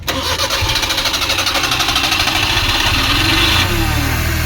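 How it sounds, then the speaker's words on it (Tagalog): A Suzuki F6A engine with a hard-starting fault and misfiring cranks with a fast rhythmic churning for several seconds, then catches and settles into a loud idle. "Umandar naman ang makina at sobrang long cranking."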